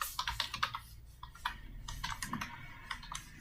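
Rapid, irregular keystrokes on a computer keyboard as code is typed, close and clear with no voice over them, the clicks bunching into short bursts.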